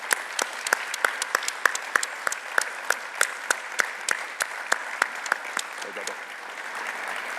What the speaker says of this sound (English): large round of applause